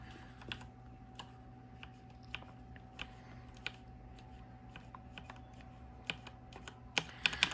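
Keystrokes on a worn, heavily used mechanical keyboard with scratchy switches, sparse clicks at first and then a quicker burst of taps near the end, quiet against a low steady room hum.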